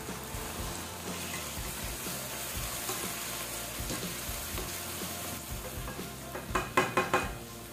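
Small pieces of beef sizzling and frying in a pot for beef soup, a steady close crackle with occasional stirring and a few sharp metallic scrapes near the end.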